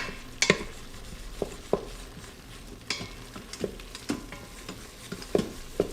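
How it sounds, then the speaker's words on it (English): A utensil scrapes and knocks against the bottom of an Instant Pot while deglazing for Mongolian beef. Irregular scrapes and clanks stand out over a soft sizzle, roughly a dozen distinct strokes spaced unevenly. "we will deglaze the bottom of our pot, and that's just a simple process of scraping the bottom"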